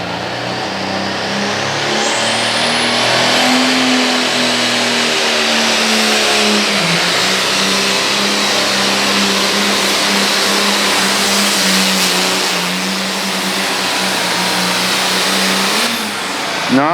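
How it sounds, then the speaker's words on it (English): Pulling tractor engine at a county fair tractor pull, loud and close, holding a high sustained roar with pitch shifts as it drags the sled, easing off near the end. "Bill Shaw calls his tractor Against the Grain."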